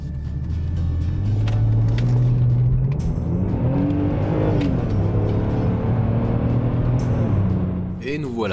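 A BMW 330ci with a three-litre six-cylinder engine accelerating hard, its steady droning engine note climbing in pitch through the gears from inside the car, loud and sustained, with a voice speaking over it.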